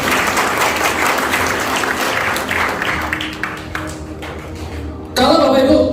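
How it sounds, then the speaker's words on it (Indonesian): Seminar audience clapping at an Islamic anti-usury business opportunity event, a loud sustained round of applause that thins out, then gives way to a sudden bright tonal sound near the end. "Tepuk tangan buat Bapak Ibu"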